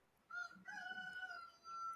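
A rooster crows loudly at a neighbor's place where chickens are kept: one long crow, a brief pause, then a second crow starting near the end, with no talk.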